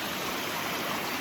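Small, clear river rushing over large boulders in the White Mountains, a steady broadband wash of flowing water that stays even and close throughout, with no voices.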